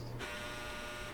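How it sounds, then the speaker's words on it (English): A timeout buzzer at a tabletop game session rings as a sustained, steady electronic tone for just over a second, starting abruptly after a brief low hum. "That really, was the timeout buzzer."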